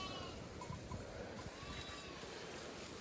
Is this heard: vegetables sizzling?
no